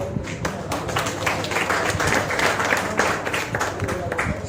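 An audience at a Hindi poetry recital breaks into steady, enthusiastic applause, many hands clapping at once in a dense continuous patter.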